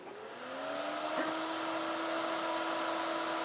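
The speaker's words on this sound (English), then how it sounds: "I have this other AC fan here, and we're going to plug that in and compare it" A plugged-in AC fan running at a steady moderate volume, giving a continuous whooshing whir with a faint motor hum that builds over the first half second and then holds even, with no voices.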